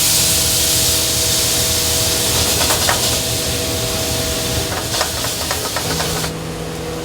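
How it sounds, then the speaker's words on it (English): A hot restaurant pan deglazed with white wine gives a loud, continuous sizzling hiss up close, with a few brief crackling bursts partway through before the hiss drops off near the end, and no one speaking. "Get deglaze with some white wine"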